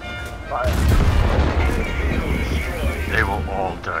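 A tank cannon in the World of Tanks video game fires with a loud, heavy boom that rumbles and decays over several seconds, with voices talking over it.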